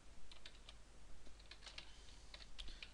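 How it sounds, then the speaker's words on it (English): Quiet computer keyboard typing, a run of light, irregular key clicks picked up close and alone while a command is entered. "the best thing we can do is to type the following instruction here"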